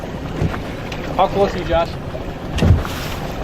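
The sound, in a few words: wind blowing on a fishing boat on a lake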